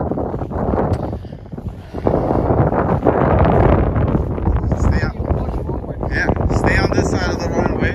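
Strong crosswind gusting across an airfield, a loud, steady rushing roar buffeting the microphone throughout, with a person speaking over it.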